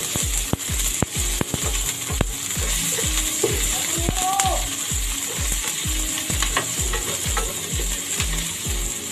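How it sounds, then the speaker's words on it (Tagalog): Onion frying with garlic in a pan for pork pata hamonado, a steady sizzle under regular, evenly spaced clacks of a utensil stirring against the pan, close and fairly loud. "At lagay na po natin yung ating sibuyas."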